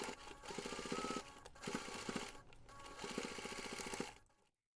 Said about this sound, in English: Next we're going to take this to the machine and baste using 5mm seam